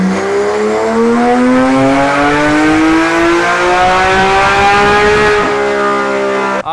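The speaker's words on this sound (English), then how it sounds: "we're gonna do one more pull with the GT3 RS. We're gonna do a 4th gear pull." A Porsche GT3 RS engine screams through a fourth-gear dyno pull, its pitch climbing steadily and loudly for about five seconds before the throttle snaps shut and the revs drop.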